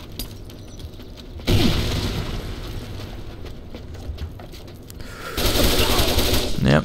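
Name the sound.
grenade explosion and gunfire in video game Crimecraft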